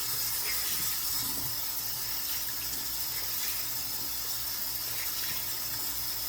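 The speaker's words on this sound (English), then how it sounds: "I'm going to do some cold water to kind of seal in that moisture from the mask." Cold tap water runs steadily into a bathroom sink, a continuous close hiss and splash with no break.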